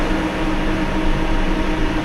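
London Underground Piccadilly Line train at night pulling away, with a steady loud mechanical hum and broadband rushing noise throughout.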